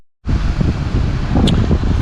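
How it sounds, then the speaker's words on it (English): Loud sea wind buffeting the microphone, a continuous roaring gust that starts abruptly after a brief silence, no voices. "As I see, it's a bit windy."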